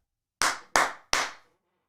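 Three sharp, loud hand claps in quick succession, spaced evenly and alone, meant to switch on a clap-on light in a live sports betting studio show.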